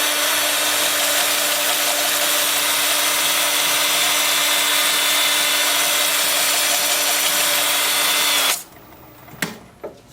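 Sandpaper at 80 grit rubbing a spinning cherry plum bowl on a wood lathe, a steady loud hiss with a motor hum for about eight seconds, then stopping abruptly, leaving quiet clicks.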